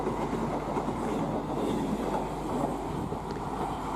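An Indian Railways high-speed EMU train passes with a steady, close rumbling roar and faint rhythmic clatter of wheels over rails, loud and continuous throughout with slight wind buffeting and no talking.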